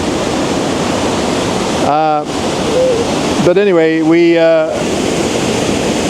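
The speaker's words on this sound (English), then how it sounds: "there's the waterfalls. There's 2 of them, and they're really pretty." Steady broadband rushing of a pair of falling waterfalls on Vancouver Island fills the scene, with someone speaking briefly over it twice.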